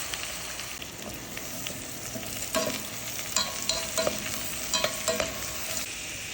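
Tiger prawns sizzle in butter and garlic in a hot pan, a constant crackling hiss with spoon or spatula clacks and stirring knocks at intervals.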